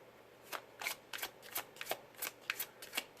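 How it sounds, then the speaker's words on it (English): Tarot cards are shuffled by hand, a series of soft riffling swishes in a loose rhythm, close and fairly quiet with no voice. "I'm going to pull 3 cards"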